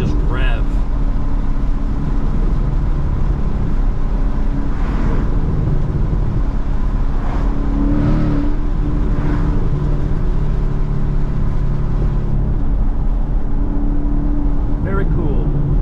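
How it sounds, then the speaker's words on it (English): A Ford Mustang GT V8 revs steadily while being driven on mountain roads. Its loud, continuous low engine drone fills the cabin with gentle rises in pitch, and someone talks over it. "What I love about this motor is just the way it revs."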